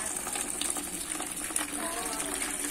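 Water gushes steadily from a card-operated public government water tap, a continuous broadband rush with faint voices in the background.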